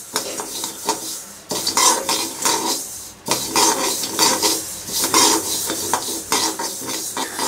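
Finger millet being dry-roasted in a thick-bottomed pan, stirred with a spoon that scrapes and rasps against the metal in steady, close, continuous strokes with a couple of brief pauses.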